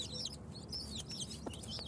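A farm hen with chicks about three weeks old makes faint clucks, and thin high peeps from the chicks are scattered throughout over a low background rumble, with no talking.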